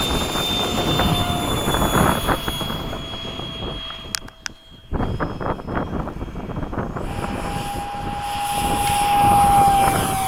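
Habu 32 RC model jet at a flying field, turbine whining loudly and steadily through its takeoff roll, with a brief dip before rising to a strong, sustained roar.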